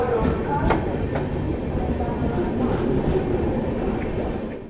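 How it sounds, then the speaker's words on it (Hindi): An Antyodaya Express train pulls out of platform 2 at Jalandhar City railway station, a steady close rumble of rolling rail cars with brief clanks and faint squeals running throughout before trailing off at the end. "चलिए फाइनली अपनी अंत्योदय एक्सप्रेस 5 मिनट डिले के साथ निकल चुकी जालंधर सिटी रेलवे स्टेशन से"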